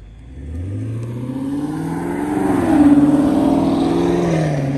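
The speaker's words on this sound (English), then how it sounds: "Oh, shit, here comes another car." A Chevrolet Camaro drives past and accelerates, its engine note sweeping upward in pitch as it revs hard, loud and close, then holding a strong growl as it pulls away, with no talking.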